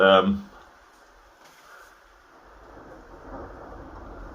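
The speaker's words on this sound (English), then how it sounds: "That thunder." Thunder sounds as a loud burst at the start and then fades into a low, distant rumble that swells again softly toward the end, with a faint background hiss throughout.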